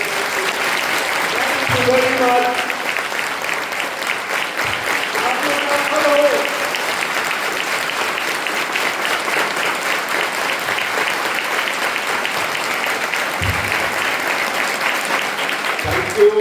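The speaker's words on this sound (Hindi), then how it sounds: "सारे भूतपूर्व विद्यार्थियों के लिए अपने हाथों को जोड़ के जोरदार तालियां उनके सामने" Loud, sustained applause from students honouring their parents and alumni at an annual parent-teacher meeting, dense clapping running steadily throughout, with a voice speaking briefly over it near the start.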